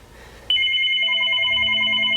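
A telephone suddenly starts ringing after a quiet moment, a loud, sustained electronic ringtone with layered steady tones that hold continuously to the end, with no voices.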